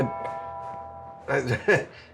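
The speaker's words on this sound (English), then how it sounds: "That's a doorbell sound." A doorbell chime rings during a drinking-game tabletop stream, a steady tone held for about a second, then voices talk over it.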